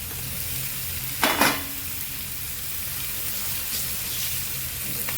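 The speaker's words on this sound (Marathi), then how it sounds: "भाजी मोठ्या गॅसवरतीच आपल्याला फ्राय करून घ्यायची" Vegetables and long slices of paneer frying on a high flame for paneer chingari bhaji: a steady, close sizzle, with a brief clatter of stirring and faint voice in the background.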